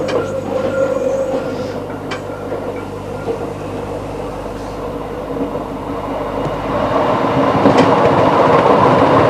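Electric locomotive running along a winding line with bridges in Germany's Black Forest, heard from inside the cab as a steady rumble with rhythmic wheel clatter over rail joints, swelling slightly louder toward the end.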